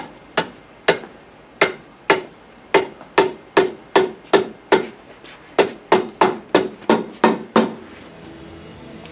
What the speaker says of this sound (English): Hey Chuck, would you get me the hammer?